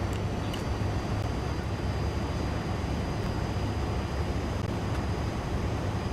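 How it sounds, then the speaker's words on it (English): A Fokker F28 jet engine spools up in Microsoft Flight Simulator 2024, heard as a loud, steady, even roar that holds throughout with no voices. "Alright, engine 2 is started."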